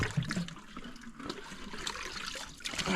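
Water trickling and seeping back into a dug-out hole at a restored natural spring, a soft continuous gurgle with small splashes, faint and close.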